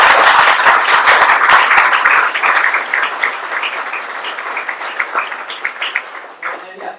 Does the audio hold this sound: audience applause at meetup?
yes